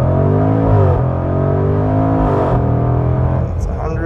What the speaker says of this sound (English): I'll bring the engine revs up on the brake pedal a little bit